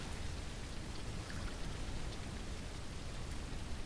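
Steady rain pours down in the tribal survival game Native Hunter, a dense, even hiss of drops with no pauses or voices.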